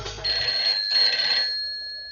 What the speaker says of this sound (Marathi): तेवढ्यात घरचा फोन वाजतो.